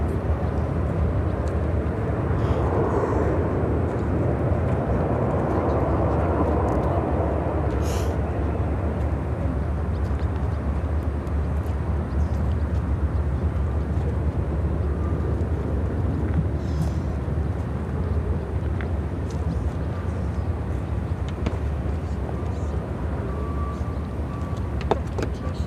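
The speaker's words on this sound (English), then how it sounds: "KLM 612 taking off to Amsterdam on the 787-10 Dreamliner." A KLM Boeing 787-10 Dreamliner takes off from Chicago O'Hare for Amsterdam, its engines giving a sustained, loud, even roar for nearly half a minute with no break or voices.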